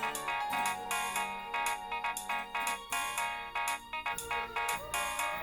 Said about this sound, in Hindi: तुम्हारे फोन से मुझे कॉल क्यों आ रही है?